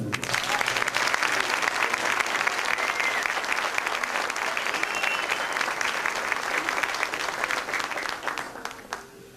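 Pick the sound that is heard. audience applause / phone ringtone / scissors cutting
audience applause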